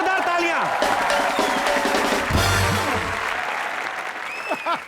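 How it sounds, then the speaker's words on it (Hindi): Studio audience applauding on the comedy talk show Comedy Nights with Kapil, a loud, dense burst of clapping and cheering that runs the full length, with a host's voice and music layered over it. "जोरदार तालियां"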